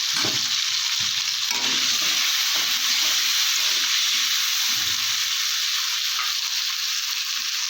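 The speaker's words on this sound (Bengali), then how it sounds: "ভাজা হয়ে গেছে" Potatoes fry in a pan with turmeric and salt, giving a steady, fairly loud sizzling hiss broken by soft, low stirring bumps.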